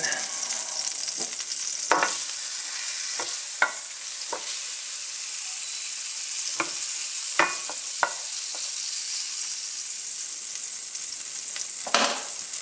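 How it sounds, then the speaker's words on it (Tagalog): Potatoes fry in a pan on a stovetop with a steady, bright sizzle, broken by occasional sharp clicks and scrapes as the pieces are stirred, close up with no talk. "So, ipiprito muna natin yung ating patatas."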